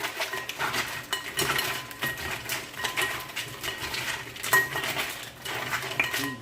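A spoon stirs black pepper and Maggi fish seasoning through Jamaican-style curry crab in a pot, giving a steady run of close clinks, scrapes and rattling shell knocks with no one speaking.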